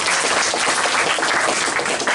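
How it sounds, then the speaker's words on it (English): School students at Woodlawn School applaud visiting rappers Talib Kweli and Immortal Technique, a loud, dense round of clapping from a large crowd that fills the room continuously. "let's give Kweli and Immortal Technique a huge round of applause right now"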